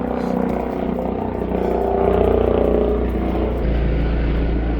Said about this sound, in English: of course there's a helicopter coming right when I'm doing the video